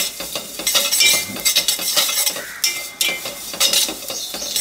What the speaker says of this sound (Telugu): ఇంకా మంచిగా వేయించుకోవాలి కంటిన్యూస్గా తిప్పుతూ.